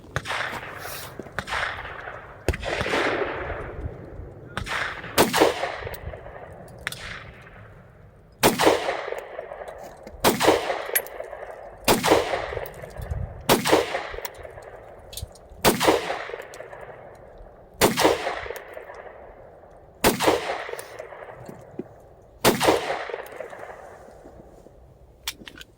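A Taurus G3C pistol fires at a shooting range in a slow, regular series of about a dozen sharp, loud shots spaced roughly two seconds apart, each with a short ringing decay.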